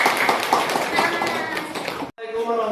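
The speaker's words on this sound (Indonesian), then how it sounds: "Tepuk tangan untuk kita semuanya." Pharmacy students and teachers in a vocational school classroom applaud together in a quick, dense patter of clapping. It stops abruptly, and a voice begins speaking right after.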